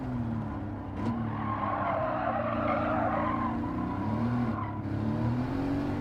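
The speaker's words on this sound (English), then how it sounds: "Going to brake around the 200 mark, stand on the brake." Mercedes-AMG GT braking hard against a C7 Corvette on a race track, tires squealing in a long sustained screech over steady engine drone, loud and close throughout.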